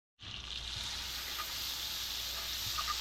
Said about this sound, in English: Let's get some butter in the pan frying.